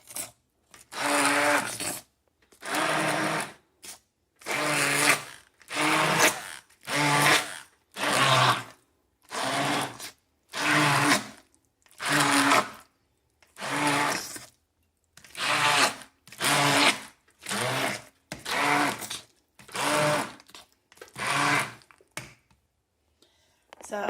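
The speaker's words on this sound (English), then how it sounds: "I've just been doing that with my immersion blender" An immersion blender mashing cooked pumpkin runs in about twenty short bursts with brief pauses between them, a whirring, slurping buzz heard up close.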